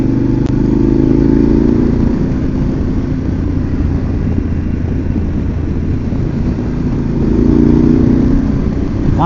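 A Harley-Davidson Pan America Special motorcycle at riding speed gives a steady, loud engine drone and wind rush that swells slightly near the end, with no talking.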